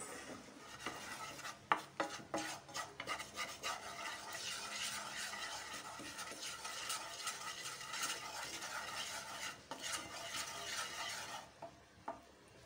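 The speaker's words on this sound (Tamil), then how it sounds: "இப்போ இதை நல்லா மிக்ஸ் பண்ணிக்கணும்." A thick spice paste with coriander powder for egg gravy is stirred steadily in a pan, a continuous close scraping and squelching with irregular sharper scrapes, heard alone without talk.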